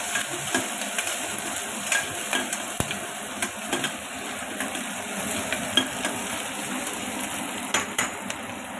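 Onions and curry leaves stirred in a hot pan, a steady sizzle with light scraping and clinking of the spoon against the pan, close and continuous without voices.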